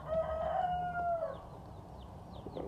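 Young chickens in a backyard grow-out pen call out once in a clear, sustained crowing-like cry, followed by faint chirps and background rustle.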